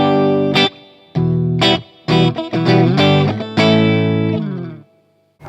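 A PRS electric guitar plays through a Hughes and Kettner GrandMeister Deluxe 40 amp on the clean channel with a little reverb: ringing chords and short phrases with sharp attacks and lingering tails, loud and close.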